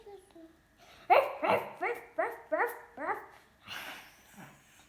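A dog barks six or seven times in a quick, fairly regular series, close and loud, ending with a softer yelp.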